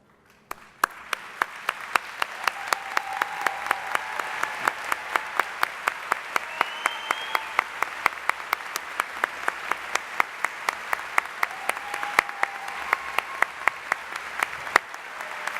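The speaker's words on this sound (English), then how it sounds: "we appreciate that round of applause for their dedication of service today" A commencement ceremony audience gives a steady round of applause for graduating armed-services veterans, with sharp individual claps standing out over a dense field of clapping that holds for the whole stretch.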